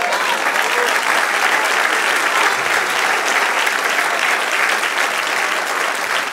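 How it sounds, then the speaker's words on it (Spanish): A church congregation at an evangelical Spanish-language service bursts into sustained applause, a dense and steady roar of many hands clapping at once with no break. "Denle un aplauso al que vive."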